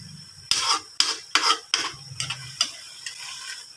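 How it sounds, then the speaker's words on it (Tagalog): Tofu sautéing in a pan, a soft sizzle broken by several sharp scraping stirs and clanks of a utensil against the pan, close, with the stirs tapering off. "Lagay na din natin yung tokwa."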